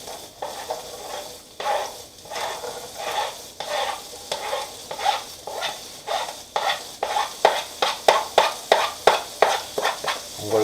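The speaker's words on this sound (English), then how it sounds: "Now we're gonna put them on the pan, in the pan with the cooking oil." Garlic cloves sizzle in cooking oil in a pan over low heat, with a utensil scraping and stirring in a steady, quickening rhythm close by; the frying hiss runs continuously underneath.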